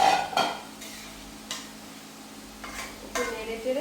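Fried egg and potato pieces going into boiling water in a pot and being stirred, with a few scattered clinks and scrapes of a utensil against the pot over a low bubbling background.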